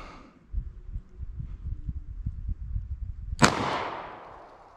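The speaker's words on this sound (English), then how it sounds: "I'm gonna see if this shoots a little bit better with the steel cased ammo" A single loud, close .38 Special revolver shot fired with steel-cased ammunition at a target seven yards away, a sharp crack followed by a ringing decay, after a few seconds of low rumbling handling noise.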